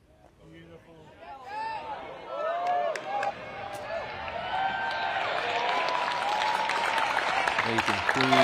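A disc golf tournament crowd at the MPO finals breaks into applause and cheering that builds from scattered claps to a loud, sustained roar, with voices calling out over it.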